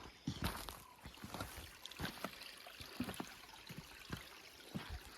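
A small rainforest creek trickles and burbles steadily close by, with scattered soft splashes and footsteps over wet rock throughout.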